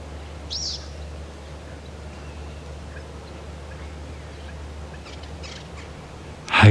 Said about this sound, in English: One or two birds.